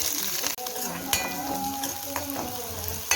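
Green chillies fry in hot oil, a close, steady sizzle with a few sharp pops and a clink of a utensil against the pan partway through.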